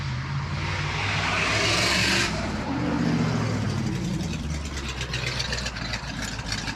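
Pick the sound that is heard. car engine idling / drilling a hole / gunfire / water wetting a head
car engine idling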